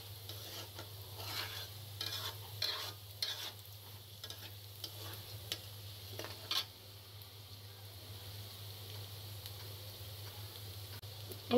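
Chicken biryani cooking in a pan, with a steady soft sizzle of frying and repeated scraping, stirring strokes close by over a constant low hum, with no talking.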